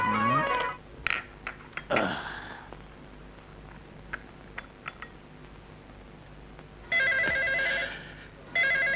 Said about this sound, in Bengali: নিশ্চয়ই ব্ল্যাক টাইগারের ফোন।